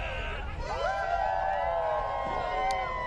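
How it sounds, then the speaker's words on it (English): A hometown crowd cheers and screams at a professional ultimate frisbee game, with shrill whoops and high shouts over a steady roar from the stands at a distance. "the hometown crowd is loving it"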